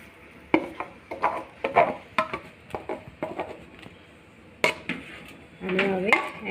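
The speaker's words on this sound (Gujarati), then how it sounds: "અને હવે એને હલાવીશું જેથી ફુદીનાની પેસ્ટ એકદમ મિક્સ થઈ જાય" A spoon stirring mint paste into thick sugar syrup in a pot for mint sherbet, with a series of irregular metallic clinks and scrapes against the pot, closely miked and fairly quiet.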